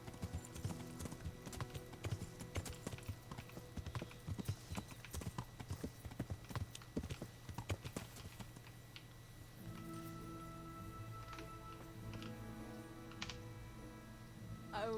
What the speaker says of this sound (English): Pobre caballo.